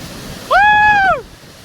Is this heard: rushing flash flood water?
yes